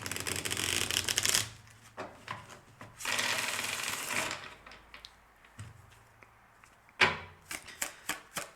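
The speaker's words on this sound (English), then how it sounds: "Wait, I want to shuffle here for the last one." Playing cards riffle-shuffled in several quick bursts, crisp rapid fluttering that stops and starts, with quieter handling clicks between shuffles.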